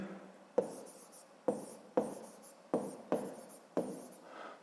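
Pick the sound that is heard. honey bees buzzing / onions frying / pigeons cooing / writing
writing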